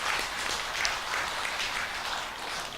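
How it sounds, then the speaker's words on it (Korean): Applause from a Buddhist family Dharma service congregation at a Korean Buddhist hall, steady dense clapping sustained at moderate level throughout. "박수 한번 치셔요"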